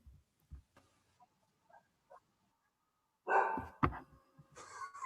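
A female dog indoors gives a few soft, scattered yips, then a louder burst of barking and whimpering near the end. Nobody speaks.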